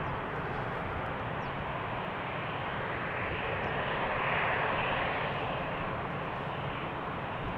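A plane departing from the Polderbaan runway 36L at Amsterdam Schiphol Airport makes a steady, loud jet roar that swells gradually toward the middle and stays continuous throughout.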